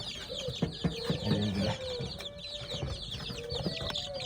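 Domestic chickens cluck and peck nearby, with a flurry of short, close clucks and scratchy calls and faint background birds, largely without talk.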